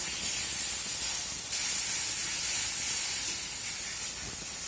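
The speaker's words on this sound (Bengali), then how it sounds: "এখন আমি এই পটলটাকে হলুদ আর লবণের সঙ্গে খুব ভালোভাবে মিশিয়ে এইভাবে নেড়ে চেড়ে নেব" Pointed gourd sizzles steadily in a hot pan with turmeric and salt as it is stirred, a continuous close hiss of moisture cooking off with no voices.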